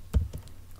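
Python code typed on a computer keyboard, a few quick close key clicks with one louder press at the start, no speech.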